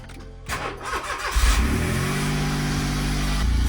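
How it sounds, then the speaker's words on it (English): A car engine is cranked at night, first sputtering unevenly for about a second, then catching and settling into a loud, steady idle that runs close up to the end. "I will try to start the car."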